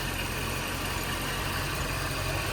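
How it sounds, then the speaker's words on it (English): A 2005 Mercedes CL55 AMG with its hand-built supercharged M113K V8 idling, a steady, smooth low rumble with constant mechanical whine, close and unbroken. "This is what an M113K on a CL55 sounds like."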